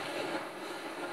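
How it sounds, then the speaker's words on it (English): Airplane engine from the video game GTA V, a steady broadband roar that holds at an even loudness through the whole short moment with no voices over it. "My plane!"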